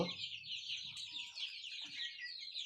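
A large tiger-breed hen clucking close by in a few short, soft bursts over a low background.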